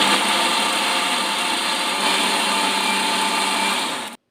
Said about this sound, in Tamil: அடுத்து இதை மூடிட்டு நம்ம அரைச்சிடலாம்